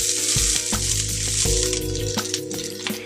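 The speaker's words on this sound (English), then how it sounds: "Add the rice to the heated pan." Rice hits hot oil in a heated pan and crackles loudly, close up, with sharp spattering pops and the clatter of a utensil over a continuous sizzle.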